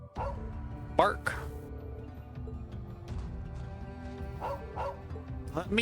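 A dog in the Trails of Cold Steel II video game gives a few short, sharp barks and yips over a steady bed of game music and ambience.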